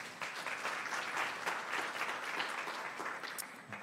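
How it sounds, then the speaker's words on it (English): A seminar audience at an agriculture and environmental science symposium claps steadily for a few seconds, an even patter of applause heard at a moderate distance with no talking over it. "Another round of applause,"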